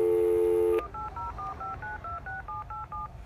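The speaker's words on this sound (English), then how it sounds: "Now it is dialing." An apartment building callbox places a call: a brief loud tone, then a quick run of about a dozen short dialing beeps in a steady rhythm, clear and close with no talking.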